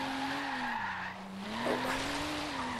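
Tires skid and squeal in a sustained, wavering screech as a Rocket Bunny Boss V2 Silvia drifts under handbrake in Forza Horizon 3, over the drone of the engine.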